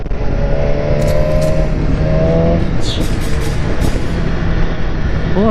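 A BMW S1000RR sport motorcycle engine revs and pulls hard while cornering on a ride, rising and falling in pitch with gear changes, loud and close throughout with wind rush.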